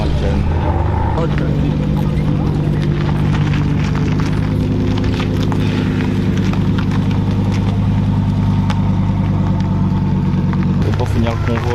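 A Lamborghini Huracan passes in a convoy of supercars, a loud, steady engine drone with a constant low hum and a shift in tone near the end.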